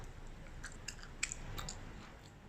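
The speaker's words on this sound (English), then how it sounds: "So just grab one, chew on it." A cooked macaroni noodle being chewed gives faint, soft, squishy bites and small clicks at close range, with no talking.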